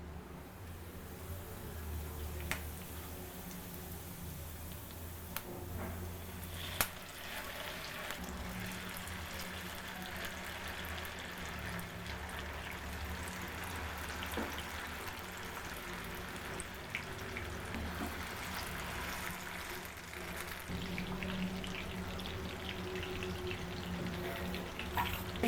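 Barracuda fish sizzles steadily in hot coconut oil with curry leaves, a soft continuous crackling hiss that stays even throughout, fairly quiet and close with occasional faint pops and no talking.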